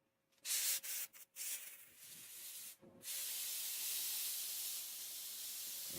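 A spray gun sprays sealer in a custom paint job, hissing in short bursts, then settling into a long steady spraying hiss that continues to the end.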